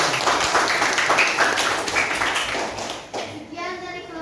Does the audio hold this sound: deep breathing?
no